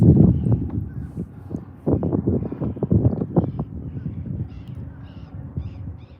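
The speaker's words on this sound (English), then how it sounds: "What's going on with those birds?" Birds call in a series of harsh, irregular cries, some loud and close, others fainter, with a few higher chirps near the end.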